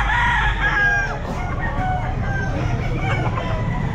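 A 10-month-old Raptor Sweater gamefowl rooster crows loudly and close at an outdoor pet market, other birds clucking and crowing around it over a steady low rumble of market noise.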